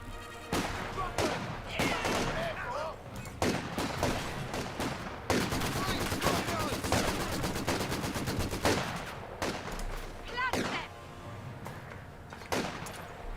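Sustained gunfire from the Company of Heroes 2 strategy game, dominated by rapid machine-gun bursts from a DShK heavy machine gun, with rattling volleys and scattered single shots that are loud and nearly continuous, while a voice talks faintly underneath.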